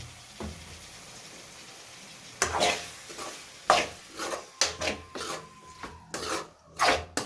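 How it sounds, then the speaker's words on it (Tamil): A spoon or spatula stirs tomatoes frying in a pan for chicken curry, making a string of rasping scrapes and knocks in irregular bursts, close up over a faint background hiss, with no speech. "தக்காளி நல்லா கிண்டி விடணும், நல்லா ஹீட்டில்"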